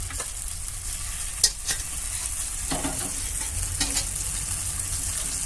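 Chili powder and ground red chili paste being stirred into fried onion and garlic in a pan, with a steady oily sizzle and scraping spoon strokes throughout, close and moderately loud.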